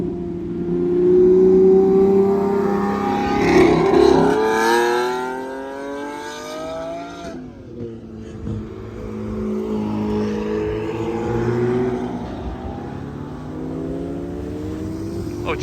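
A Lamborghini SVJ supercar at Monterey 2023 revs hard and drives by, its engine climbing through rising gear sweeps, loud and near, then easing into a lower rumble as it moves away.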